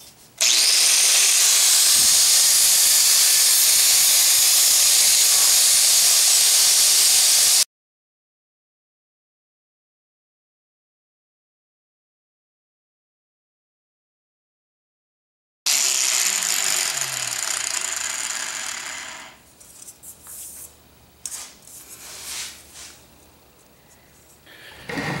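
Loud, harsh high-pitched grinding of an angle grinder on a metal Viking helmet resting on a soft surface, cutting off abruptly, then resuming before fading into rougher intermittent scraping.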